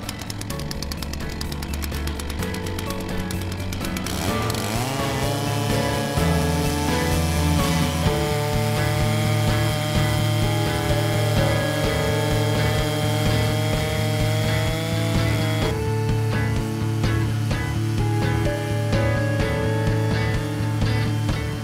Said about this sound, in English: Hold far down on the chainsaw handle, and the guide bar will cut easily through the log.